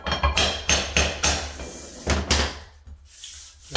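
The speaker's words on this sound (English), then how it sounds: "Okay, grab your hammer." Hammer tapping a laminate floor board into place during a bathroom install, about nine sharp close knocks in an uneven rhythm, then a quiet pause.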